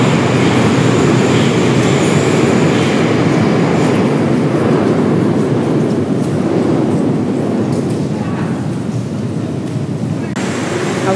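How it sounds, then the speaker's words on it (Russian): Moscow metro train rumbles loudly through a station, a heavy continuous low roar of wheels and carriages with faint squeals and a click near the end. "вот, собственно, сейчас такие шикарные вагоны метро."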